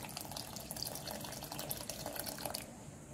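Water poured into a pot of sopas soup with cabbage on the stove, a steady broadband splashing and trickling that runs close and continuous for a few seconds, then stops.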